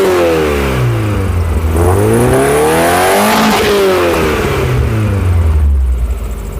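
A Skoda 120 16V engine revs up and down repeatedly nearby, its pitch sweeping high then dropping back, loud and continuous with no talk over it.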